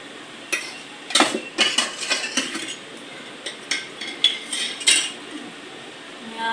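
A metal ladle knocks and scrapes against a pot while scooping oil for tempering a cashew paneer curry, giving a few light, irregular clinks and taps at close range in an otherwise quiet kitchen.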